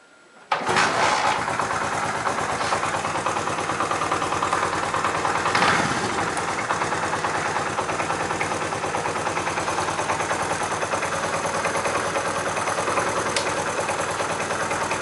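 A Honda CD 70 motorcycle with no battery kicks into life with a sharp start, then its small engine runs at a steady, close, buzzing idle with a fast even putter for the rest of the clip.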